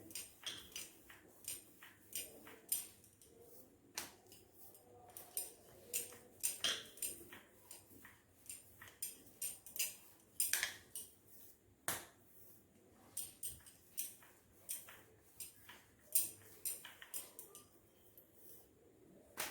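Kochuri dough balls rolled out one after another on a board, giving soft irregular taps and knocks of the rolling pin, close and fairly quiet, with no talking.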